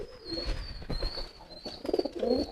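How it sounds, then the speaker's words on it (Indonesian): Homing pigeons cooing close by, soft low throaty coos repeated a few times over faint background noise. "Nah ini merpati posnya nih teman-teman tuh."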